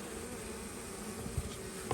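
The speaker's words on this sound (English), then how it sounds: "We're going to get ourselves a scoop of bees, and we're going to take them to the pool." Honeybees buzzing steadily as a scoop of bees is taken from a hive, a continuous close droning hum with a couple of soft thumps near the end.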